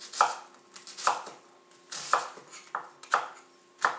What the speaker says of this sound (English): Next you're going to take your onion and you're going to do the same thing, just a simple rough chop to it.